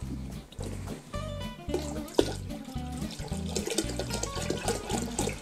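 Tap water pours steadily into a container around a copper coil set up for extracting essential oils, a continuous splashing fill with small gurgles, close and moderately quiet.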